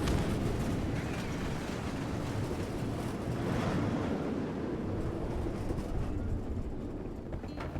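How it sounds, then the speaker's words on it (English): Fireworks in the video game My Time at Sandrock, a dense continuous rumble of booms and crackles with swelling bursts, loud and unbroken throughout, with no talk. "The fireworks in the middle were a real surprise, though."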